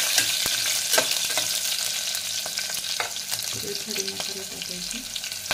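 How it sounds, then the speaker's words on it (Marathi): Green chillies fry and get stirred in a hot pan for masala rice, a steady loud sizzle with scraping stirs and a few sharp crackles throughout. "त्यानंतर मिरची परतून घ्यायचं आहे।"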